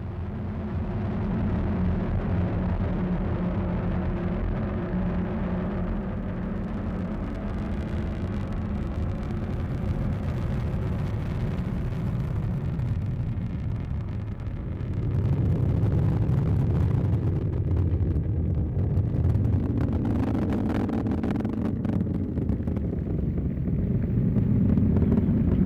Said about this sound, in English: we have liftoff of the United Launch Alliance Atlas V rocket